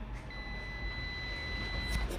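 A multimeter in buzzer mode sounds a steady high electronic beep while a microwave oven is tested for faults, a thin continuous tone held for about two seconds over faint room noise.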